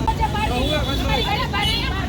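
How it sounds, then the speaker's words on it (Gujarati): A parked car's engine idles as a low, steady rumble beneath loud, overlapping voices of people arguing on a Rajkot street during a police towing dispute. "પણ હજી ગાડી હજી ચાલુ છે, જુઓ તમે,"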